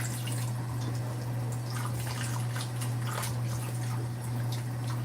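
Close running water splashes over fish being washed and rubbed with lime, with scattered drips and small splashes under a steady low hum.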